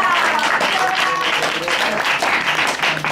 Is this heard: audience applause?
yes